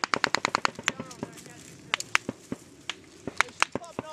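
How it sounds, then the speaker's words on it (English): Gunfire cracking overhead during a Taliban attack on US forces in Afghanistan, a quick burst of rapid shots followed by scattered single reports, sharp and fairly close, with soldiers talking in between. "They're just shooting over our heads."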